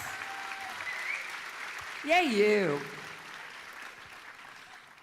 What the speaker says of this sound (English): Round of applause for our Oklahoma going students